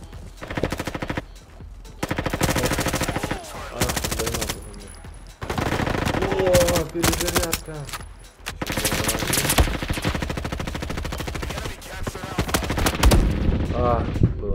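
Gunfire in the Roblox game Front Lines, long bursts of rapid automatic rifle fire broken by short pauses and single shots, loud and close, with faint voices talking underneath.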